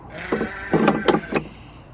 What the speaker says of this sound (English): that big goat right there with that thick fur on him